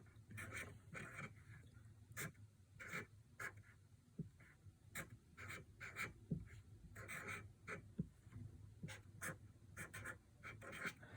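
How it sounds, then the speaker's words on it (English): Pen or pencil writing by hand on paper while drawing a portrait, heard as faint scratchy strokes in irregular bursts over a low background hum, close and quiet with no talking. "so I'm going to write that on mine"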